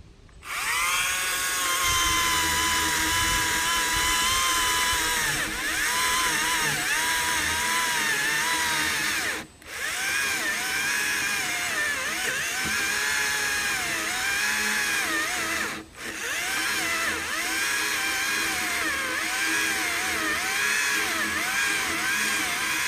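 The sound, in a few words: Stihl battery-powered chainsaw cutting oak limb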